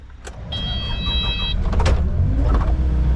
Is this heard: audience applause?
no